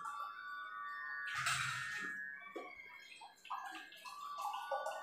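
Water pours from a glass into a vessel for soaking, starting as a rushing stream and then breaking into uneven splashes, gurgles and drips, quiet and close with no speech.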